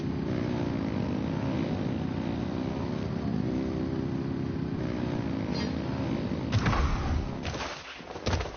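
Engines revving in the video game Genshin Impact, a steady rumbling drone with slowly shifting pitch, followed near the end by a couple of heavier bursts and thuds.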